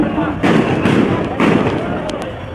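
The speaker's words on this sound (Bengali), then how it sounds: "শুনছেন অবশ্যই গুলির শব্দ" Sharp gunshot bangs and tear gas or rubber bullet bursts echo loudly outdoors over a continuous crowd roar during a student-police clash in Sylhet, several blasts in quick succession with shouting mixed in.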